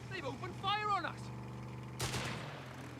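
Machine gun fire in the strategy game Company of Heroes 3, a short rattling burst followed by a sharp loud crack, over low battle rumble, with a brief voice early on.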